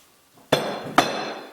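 A used brake rotor is dropped onto a steel loading pin, giving two sharp metallic clanks about half a second apart, each ringing briefly, close and alone.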